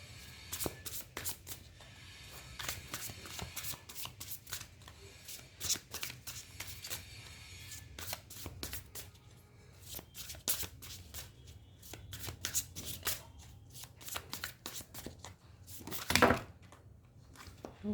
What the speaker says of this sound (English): now let me pull out some tarot cards for you